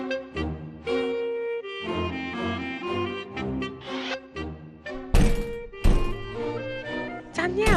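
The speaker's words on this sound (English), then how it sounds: "is that you banging the door?" Heavy thuds on a door, with a couple of loud, sharp bangs standing out late among busy household sounds and background music.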